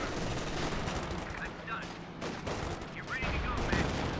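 Battle sounds from the video game Company of Heroes 2, with dense gunfire and an anti-tank gun hit forming a loud, continuous barrage of rattling shots and heavy impacts.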